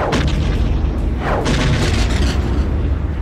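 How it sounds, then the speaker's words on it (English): Starship explosions in a Star Wars audiobook space battle: continuous loud, rumbling booms and blasts overlapping one another, with dense low-end roar and no speech. "around them, the Nihil ships exploded."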